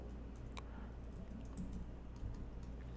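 Quiet typing on a computer keyboard, a few scattered light key clicks over a low steady background hum, with no talking.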